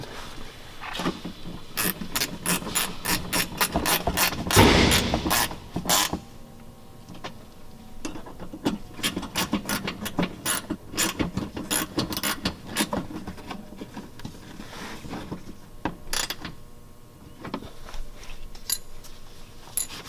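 Ratchet snugging up bolts under a 2014 Mustang GT during an oil change, rapid bursts of sharp metallic clicks in uneven runs, close and fairly loud, with a clunk near the start.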